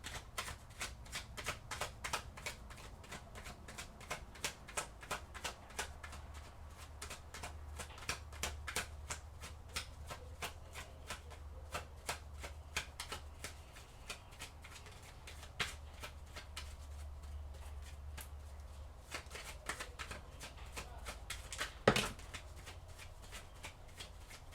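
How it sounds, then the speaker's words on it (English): Oracle cards are shuffled in a steady run of quick, crisp riffling clicks over a low background hum, with one sharper snap near the end as a card drops. "Everyone just dropping cards all over the place."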